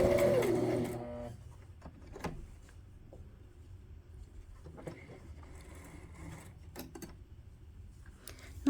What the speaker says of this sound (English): Now stitch on top of the starting of the stitch where we started.